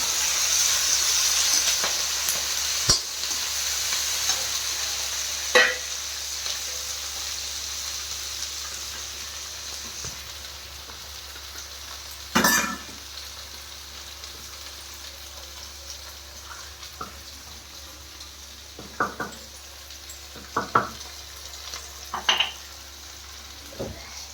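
Steady sizzling of tomatoes and green chillies frying in a pan, with occasional stirring clatter and scraping over a continuous hiss; no talking.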